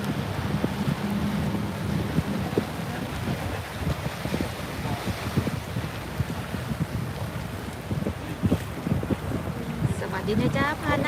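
Paddan tour boat cruising a Gothenburg canal through choppy water, with a steady engine rumble, wind buffeting the microphone and splashing waves; voices speak briefly over the noise.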